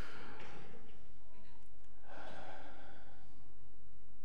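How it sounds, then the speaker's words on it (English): A group in a church service takes slow, deep breaths together, with two soft, airy inhales rising and fading over a few seconds at moderate distance. "We're going to take a big breath"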